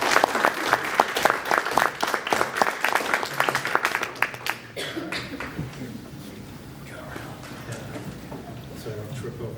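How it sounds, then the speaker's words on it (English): An audience breaks into a round of applause, dense clapping that is loud at first and thins out after a few seconds into scattered claps and room noise. "can we have a round of applause for that?"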